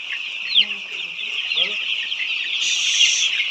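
White layer hens cluck steadily on a poultry farm, a dense chorus of close, overlapping clucks and squawks that continues without a break for the whole stretch.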